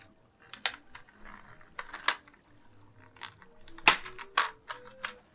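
Keys pressed on a computer keyboard whose up-arrow switch had been broken and repaired, sounding as irregular close clicks and clacks with several louder strikes spaced across a few seconds.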